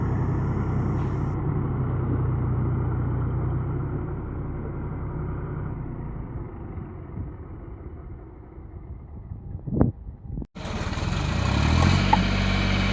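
A vehicle engine idles steadily after being pulled out of a spot where it had sunk, a low continuous rumble that fades and cuts off, then another burst of broadband noise follows.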